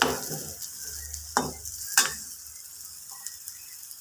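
Potato curry sautéing with chili powder over a low flame, a steady soft sizzle broken by a few sharp spoon scrapes and stirring clinks against the pan.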